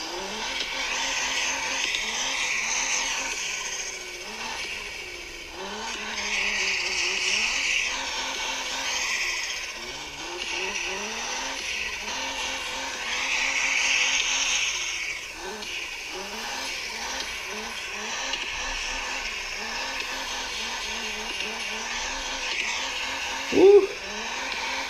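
DR!FT remote-control drift car running on a race track, with a buzzing, revving electric motor that surges and fades repeatedly and light tire scuffs, moderately loud under frequent talking.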